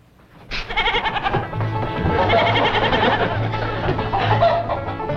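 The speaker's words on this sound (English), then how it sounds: "Your goat, sir." A goat bleats loudly and close, a long wavering cry that repeats in quavering bursts over several seconds, with faint background farmyard noise and no talk.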